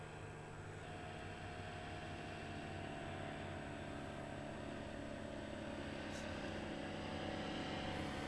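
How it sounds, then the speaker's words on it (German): An Avid Flyer light propeller aircraft drones steadily overhead at an airfield, a faint, even engine hum with no break throughout. "Und hier fliegt unser Avid Flyer."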